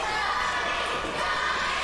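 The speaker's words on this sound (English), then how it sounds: "The crowd getting behind Johnny Slaughter of the night." A wrestling crowd cheers and roars steadily for Johnny Slaughter during a Southern Legacy Wrestling match, a continuous wash of noise under an excited commentator's voice.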